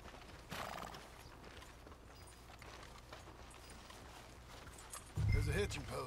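A horse in Red Dead Redemption clip-clops at a steady walk, then gives a loud close whinny near the end, with someone talking over the hoofbeats.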